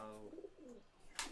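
Highflyer pigeons in a Kathmandu loft give soft, quiet coos, a few low throaty calls in quick succession followed by a brief rustle.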